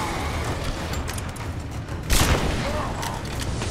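A shotgun blast from the video game Rise of the Tomb Raider booms out once, sharp and loud, midway through, above a dense bed of ongoing gunfire and battle noise.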